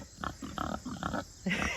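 Pigs waiting for food from a bucket, giving a series of close, rhythmic low grunts and snuffles, several in quick succession, with no voices.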